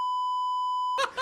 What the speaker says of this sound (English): This is the beep.